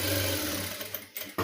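A sewing machine stitches a fabric face mask in a steady close whirring run that slows and stops near the end, with no talk.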